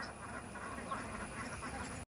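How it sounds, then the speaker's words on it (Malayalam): A large flock of around a thousand ducks quacking in a Kerala village, a dense continuous chorus of overlapping quacks heard from a moderate distance, fairly faint, with no talk. "ആഹാ, താറാവുകൾ വരി വരിയായിട്ട് ഇങ്ങോട്ട് വരുന്നുണ്ട് കേട്ടാ."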